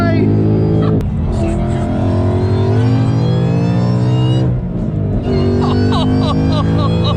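A Mustang with a Coyote engine and VMP supercharger revs hard and loud, its rising and falling engine tone steady throughout, with a voice talking over it.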